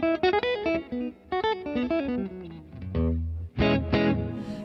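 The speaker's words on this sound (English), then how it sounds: "You got a decay, which is your length, your reverb length, and then a color wheel, which is a tone control." Reverb guitar pedal effect on electric guitar playing: plucked notes and chords ring out with long decaying tails and a washy, effected tone, loud and close, with no talk.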